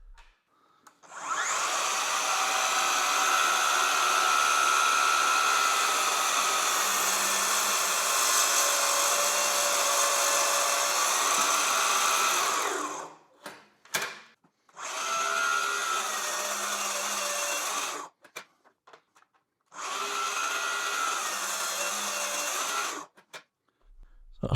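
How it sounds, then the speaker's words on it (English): A miter saw cuts with no dust extraction attached: a loud, steady high-pitched whine held for about twelve seconds, then two shorter cuts of similar roar separated by brief quiet spin-downs, close and alone. "So as you can imagine, it's a miter saw."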